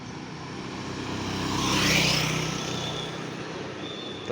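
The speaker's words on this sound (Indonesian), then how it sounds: "Bus Premium Bellatrix melanjutkan perjalanan." A Bellatrix premium bus drives past on a road, its engine and tyre roar swelling to a peak midway and then fading as it moves off, with steady traffic noise behind.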